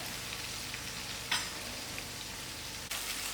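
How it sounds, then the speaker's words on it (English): Onions fry in a pan for a spicy chicken liver dish, giving a steady, even sizzle throughout with a couple of brief clinks from stirring; no one speaks. "I'll allow these onions to fry out first."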